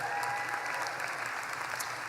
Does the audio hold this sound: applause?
yes